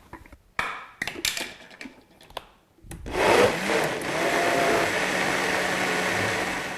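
A countertop blender whirs through black bean soup with a full jar of medium salsa and cumin, after a few knocks and taps of the lid and jar, then a loud, steady motor roar that holds to the end.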